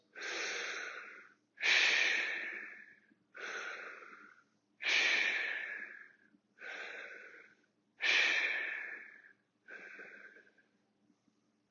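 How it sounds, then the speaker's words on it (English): Slow, deep breathing held during a stretching fitness class, about seven audible inhale-exhale cycles at an even pace, close and fairly soft, with no talking. "Let's hold for a couple of deep breaths."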